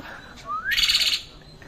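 A parrot at Mysore zoo gives one short, loud, rising screech, close by, against faint background noise.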